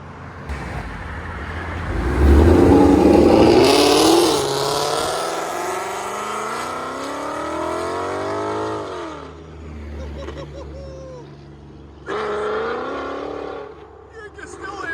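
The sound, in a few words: car accelerating hard as it drives off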